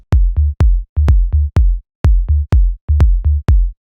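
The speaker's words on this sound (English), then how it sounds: "It's basically just kick and tom." A melodic techno pattern of punchy kick and tom hits from sample packs, deep and booming, fired in quick, tight, repeating groups with short gaps, loud and dry.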